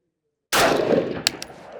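An SPR rifle fitted with an Alliant AR compensator fires a loud sharp gunshot after silence, followed by a ringing decay and two smaller cracks, heard outdoors at a range.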